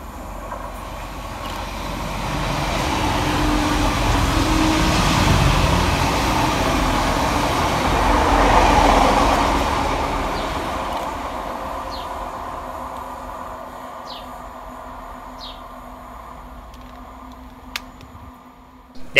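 Several Northern Class 185 diesel multiple units pass through Marske station on the Tees Valley Line, a sustained engine and wheel rumble swelling to a peak mid-way then slowly fading, with faint rail clicks near the end and no talk.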